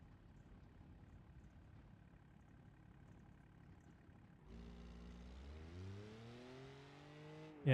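A car engine in a driving game idles quietly, then revs up sharply mid-way with rising gear-shift sweeps, climbing and dropping in pitch before a sudden loud burst at the end.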